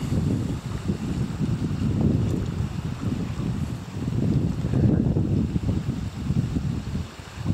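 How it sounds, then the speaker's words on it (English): Strong wind gusting by a wilderness lake on a cloudy day, a loud continuous roar and buffeting across the microphone that surges and eases in waves, with no voices. "wind has picked up quite a bit"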